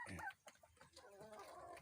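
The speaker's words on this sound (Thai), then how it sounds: "ไก่พันธุ์นี่ไก่โรสเนาะ" A rooster of a chicken breed clucks in a rural garden in Sakon Nakhon, Thailand, giving a few short, fairly close calls that are faint overall, with soft background sounds and no talk.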